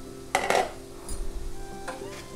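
Sabudana vada roasts in a pan with very little oil, giving a faint low sizzle broken by a couple of sharp utensil clinks against the pan, close by and without speech.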